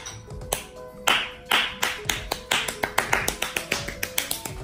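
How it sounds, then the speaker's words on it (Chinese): Hands clap in sharp, snapping strikes, starting as a few scattered claps and then speeding into a quick, steady run of loud, close claps. "要来一个小 S 完整版鼓掌"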